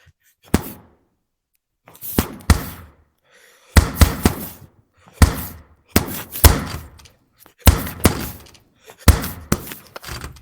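Clusters of hard knocks and thuds from a door ring out during a VR boxing game on Quest 2, arriving in repeated bursts about every second or so, loud and close with no talking.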